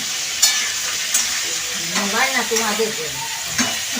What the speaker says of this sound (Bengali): আলুটা এখন হালকা করে ভেজে নিচ্ছে